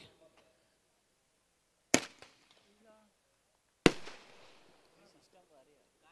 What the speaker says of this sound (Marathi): आणि मध्येच एक सलामी आपण दिलेली आहे, फटाक्याची आतषबाजी